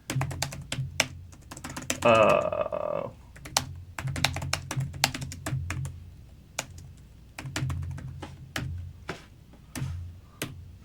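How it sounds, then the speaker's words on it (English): Typing on a computer keyboard during a beginner PowerShell session: irregular, crisp keystroke clicks come in uneven bursts at close range, with a person talking briefly in the middle. "I'm gonna open it and just type something out."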